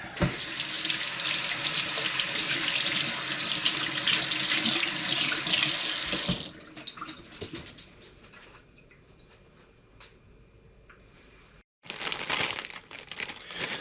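Water runs loudly from a kitchen tap as shrimp are washed, steady for several seconds, then drops to quieter splashing and handling sounds before the flow surges back strongly near the end.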